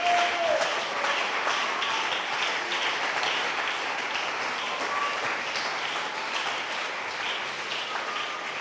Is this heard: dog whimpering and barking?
no